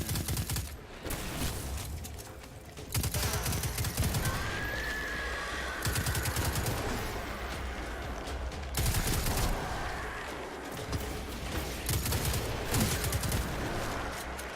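Rapid weapon fire from the video game Destiny 2 in a tiny map, a dense, loud, continuous barrage of shots with game effects layered underneath, running almost the whole time with no clear talk.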